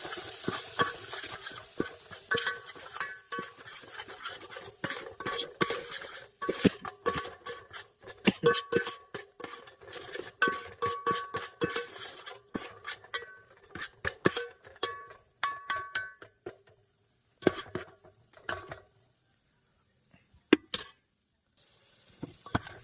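Ginger being stirred into fish curry in a pan, rapid scraping and clattering spoon strokes over a soft sizzle, continuous and close, thinning out with brief pauses toward the end.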